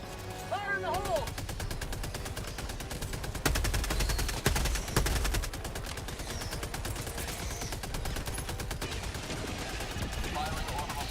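A machine gun rattles in Helldivers 2 in long, rapid, continuous bursts of fire, with a few heavier blasts mixed in partway through and voices talking over the shooting.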